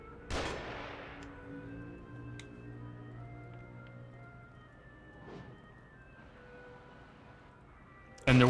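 Enemy gunfire in The Evil Within survival horror game: a few sharp shots crack out seconds apart over a low droning ambience, and the final one is the loudest and nearest.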